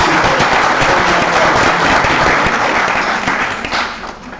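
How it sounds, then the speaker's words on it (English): An audience at a 2018 candidate forum breaks into dense, sustained applause, loud and close, with a crowd of hands clapping continuously before trailing off slightly at the end. "He deserves a round of applause."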